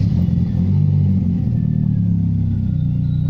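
A Mercedes-Benz M111 four-cylinder engine starts and rumbles steadily at a low idle, close and continuous, with a slight rise in revs early on and no voices.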